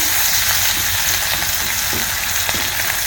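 Shidhol shutki, fermented dried fish, fries in hot oil with onion and garlic, giving a loud, dense, continuous sizzle and crackle up close, with faint stirring and no voices.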